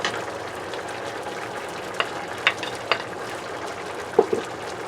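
Pork menudo simmers and fries gently in a pan as sausage and breadcrumbs go in. A soft steady sizzle runs throughout, broken by a few brief clinks and stirring knocks.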